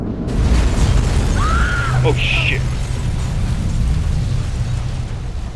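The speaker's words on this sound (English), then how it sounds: "Source of explosion was an oil truck on the bridge surface." An oil truck explodes on a bridge in Batman Arkham Origins, a loud sustained blast with a continuous heavy rumble and sharp cracks over several seconds, while a man reacts briefly with a short exclamation.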